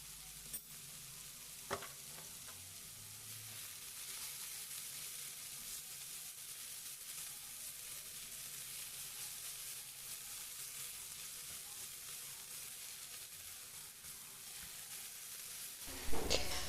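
A pan filling with fresh coriander, spices, salt and pepper fries in a steady, even sizzle, stirred now and then with a few faint scrapes near the start and a clunk at the end; no voices.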